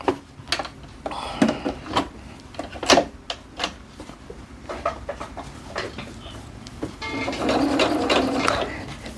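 A sewing machine runs a straight stitch through the layered flap of knit joggers. The stitching comes in short bursts with clicks and pauses, then a longer steady run near the end, up close.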